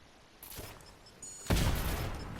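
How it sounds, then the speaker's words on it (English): Sniper rifle shots in the video game Fortnite: a couple of sharp cracks with booming tails, the second one louder and closer, over game ambience with no talking. "There's that sniper shot there. A couple of sniper shots."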